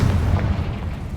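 Confringo spell explosion in the Hogwarts Legacy video game, a deep rumbling boom that fills the moment and slowly fades.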